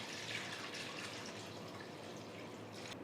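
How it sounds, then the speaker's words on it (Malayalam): Water is poured into a cooking pan, giving a quiet, continuous splashing trickle that sounds close by, with no voices. "ഇനി അതേ പാനിലോട്ട് കുറച്ച് വെള്ളം ഒഴിച്ചു കൊടുക്കാം"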